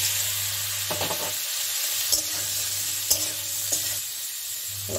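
Continuous sizzle of unripe jackfruit frying in hot oil, with several short scraping stirs of a utensil against the pan; no voices.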